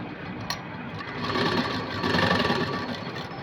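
A sewing machine stitches an Aari work princess-cut blouse, making a close, continuous rapid mechanical whirr that swells slightly in the middle, with a small click near the start.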